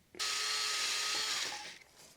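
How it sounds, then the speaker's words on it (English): A power drill bores a very small hole into a crank seal during repairs on a 90 Series Toyota Prado, a steady high whine lasting about a second and a half before winding down, close and alone. "Going to extremely carefully drill a very small hole in it."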